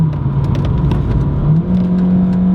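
A Kia Forte Koup with traction control switched off accelerates on a track, its engine intake giving a loud, close, steady drone that climbs in pitch as the revs rise, with no talk.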